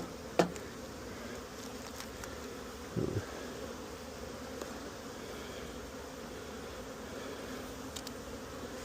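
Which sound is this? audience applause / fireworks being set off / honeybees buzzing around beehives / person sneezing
honeybees buzzing around beehives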